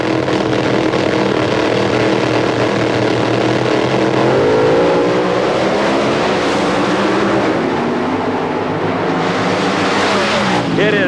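NHRA drag racing cars in the final pair at the 1993 Goodys Sports Nationals in Memphis, a loud continuous engine roar with rising and shifting pitch filling the whole stretch.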